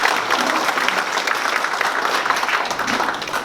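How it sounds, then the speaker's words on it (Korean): An audience at a Seoul National University forum lecture applauds to welcome a speaker, with steady, dense clapping throughout, fairly close and without talk. "여러분 큰 박수로 환영해 주시면"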